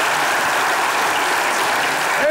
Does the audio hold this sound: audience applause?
yes